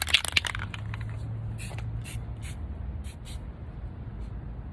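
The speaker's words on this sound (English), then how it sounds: "So to get it to do like this, you half spray." A spray paint can hisses in short bursts onto a tumbler, a crackle of rattles at the start, then several brief sprays spaced apart over a steady low background.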